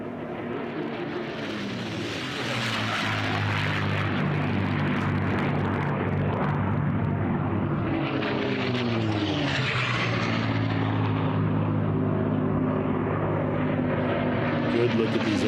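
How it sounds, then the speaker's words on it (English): Unlimited-class racing aircraft roar low past at about 50 feet over an air race course, a loud, sustained propeller-engine drone that swells and shifts pitch as they pass, with a commentator talking over it. "Good look at these aircraft down at the minimum altitude, 50 feet."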